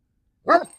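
A single short, excited dog bark on command, close and clear, in open desert near Quartzsite, with no talk over it.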